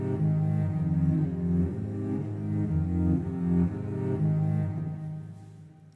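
Sustained bowed cello tones from a Kontakt sample library preset, its phrases trimmed so notes end cleanly, layered in a steady, warm, close legato line that swells and fades over several seconds.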